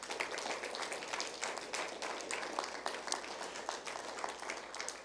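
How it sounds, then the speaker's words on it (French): Church congregation applauding continuously, dense steady clapping filling the room throughout with scattered louder claps and faint cheers, no talk over it. "Est-ce qu'on peut applaudir le Seigneur, s'il vous plaît?"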